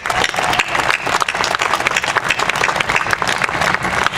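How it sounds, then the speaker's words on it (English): An audience at a city State of the City address gives a sustained round of applause for the local police force, dense steady clapping from many hands filling the room without a break. "I think they need a real round of applause"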